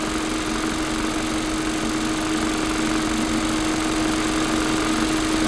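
An engine runs at a steady idle with a constant hum and low vibrating rumble, unchanging throughout.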